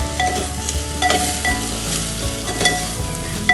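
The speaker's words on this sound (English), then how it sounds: "It's time to add the potatoes. Mix it well." Potatoes being stirred into browned onions in a hot pan for Kerala mutton stew, with a steady sizzle of frying and repeated scraping, clinking strokes of a spoon against the pan, close and clear.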